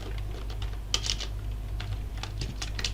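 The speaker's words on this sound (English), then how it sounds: "all we have to do is to type cylinder" Keystrokes on a computer keyboard while a C# script is written, heard as scattered soft clicks with a few quick bursts over a low steady hum, close and moderately quiet with no talking.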